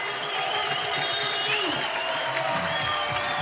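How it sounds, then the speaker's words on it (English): Arena crowd at a FIBA 3x3 World Tour basketball game in Lausanne, cheering and applauding loudly and steadily, with a dense roar of voices and clapping throughout. "Man, oh man, this crowd is going crazy."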